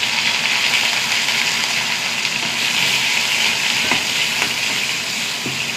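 Four garlic cloves, two dried red chilies and curry leaves frying in hot oil, giving a loud, steady, close sizzle that runs unbroken with faint crackles and no talking.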